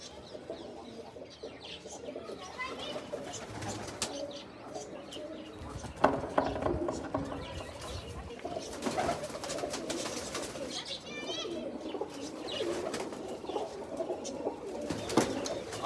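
Domestic pigeons coo softly in the background, mixed with rustling and occasional wing flaps while a person talks nearby.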